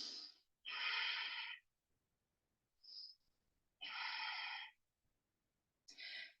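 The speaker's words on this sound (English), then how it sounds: "Take a big breath." During a yoga exercise, a person takes big audible breaths, close and clear against silence: a long inhale, a short catch, another long breath, then a final breath starting.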